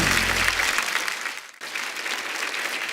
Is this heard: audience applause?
yes